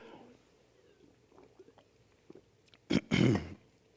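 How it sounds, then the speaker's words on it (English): A man clears his throat once, close by, in a short rough burst near the end. Before it there is a quiet stretch with faint small noises. "Excuse me one second to clear my throat here."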